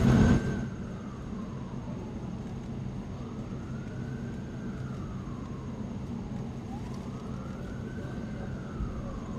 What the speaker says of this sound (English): You can hear those sirens